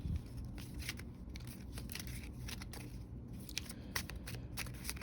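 Tarot cards are shuffled close up in a steady run of crisp riffling and flicking, fairly faint over a low background hum, with no talking.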